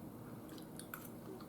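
A bite of spicy beef casserole with cheese and tomato sauce being chewed close to the mic, soft moist squishing mouth sounds over a faint background hiss.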